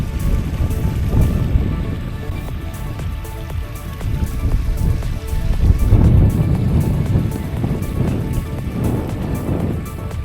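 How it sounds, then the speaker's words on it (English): Rushing water from the Bubbler mound spring at Coward Springs, a natural artesian spring feeding a wetland, heard as a continuous close gurgling churn with uneven surges and no voices. "this is creating a natural wetland with rushing water."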